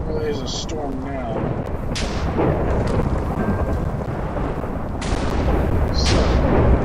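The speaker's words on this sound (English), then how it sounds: "Well, there's a storm now." Thunder rumbles through a storm under steady heavy rain, swelling in low, rolling waves, with a brief voice early on.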